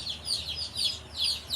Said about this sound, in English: So far it makes for 131 happy chickens.